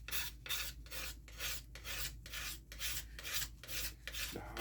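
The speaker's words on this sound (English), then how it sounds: "And then I'm going to use my card scraper." A card scraper shapes a wooden axe handle in rhythmic strokes, roughly nine or ten close, raspy scrapes with brief pauses between them.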